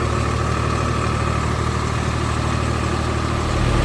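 A tractor engine idles in a flooded field being readied for paddy planting, giving a steady, close, unbroken rumble with no voices.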